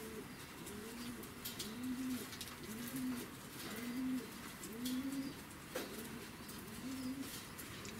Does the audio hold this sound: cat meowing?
no